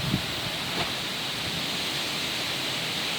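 Strong storm wind tearing through shaking tree leaves, a steady dense rushing roar with no gaps, loud and close as if buffeting the microphone.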